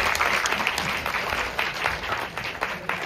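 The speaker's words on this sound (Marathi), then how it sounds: "चला टाळ्या वाजवा." Applause from a small group of people, dense continuous clapping held close and steady for a few seconds.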